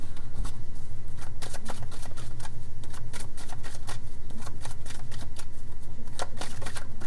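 A deck of oracle cards is shuffled and cut, giving a steady run of crisp riffling clicks and flutters that goes on unbroken at close range, with no talking over it.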